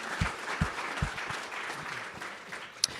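An audience at a nonprofit association's anniversary celebration breaks into applause, a steady spread of clapping with a few louder individual claps, heard from a distance and fairly quiet.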